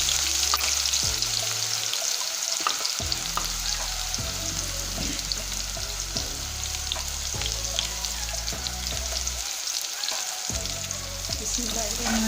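Onions sizzling in hot oil after nigella seeds, a dense, steady crackle and hiss filling the whole stretch, with occasional low knocks of stirring beneath it and no talk.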